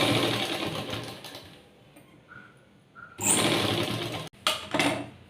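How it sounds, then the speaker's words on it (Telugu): A sewing machine stitches piping onto fabric, running in close whirring bursts with a brief pause and short squeals between runs, then a louder continuous stretch that stops abruptly and restarts. "ఇప్పుడు దీన్ని అనీపై స్టిచ్ వేసుకుందాము"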